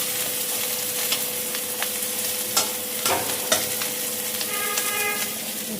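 Vegetables frying in a pan on a home stove, a steady loud sizzle running throughout with occasional stirring clinks and scrapes.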